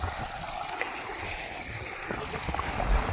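Irrigation water runs along a field channel on a village farm, a continuous close gurgling wash with small splashy ripples and no talk.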